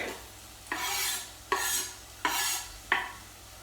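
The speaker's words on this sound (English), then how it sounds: "So I imagine those you stir those around for a little bit" Chopped tomatoes stirred in a hot pan for a fish stew, four sweeping scrapes of the utensil, each with a bright sizzle, close and fairly quiet, no voices.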